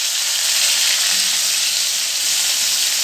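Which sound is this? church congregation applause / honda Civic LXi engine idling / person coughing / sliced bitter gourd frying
sliced bitter gourd frying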